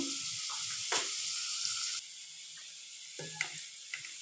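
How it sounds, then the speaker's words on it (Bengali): Potato pieces fry in a pan as the first step of a vegetable khichuri, giving a quiet hiss broken by short metallic clinks and scrapes from stirring. "দেখো, এখানে আলু ভেজে নিচ্ছি প্রথমে"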